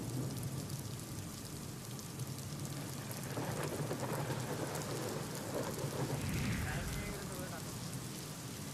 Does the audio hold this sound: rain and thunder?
yes